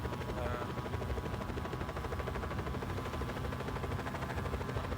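A helicopter in the video game Just Cause 4 gives a loud, dense rotor chop with a steady rapid beat that continues unchanged throughout.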